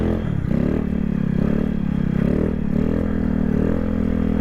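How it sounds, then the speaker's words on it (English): Honda Grom motorcycle engine held at a steady rev with the clutch pulled in, a continuous loud close-up mid-pitched engine drone with slight rises and dips throughout, no voices. "Even rev it up a little bit."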